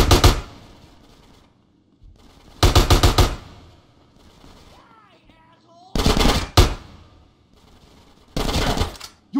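In GTA San Andreas Definitive Edition, automatic gunfire lays down suppressing fire in loud, rapid bursts about four times, each lasting roughly half a second. Quieter gaps between the bursts carry brief shouted voices.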